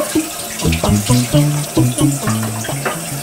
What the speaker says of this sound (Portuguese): Olha a torneira aberta